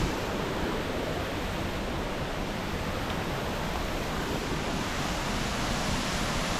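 Water rushes steadily down a sandstone flume in a woodland creek in Pennsylvania, a loud, continuous broadband roar that stays constant throughout, with no voices.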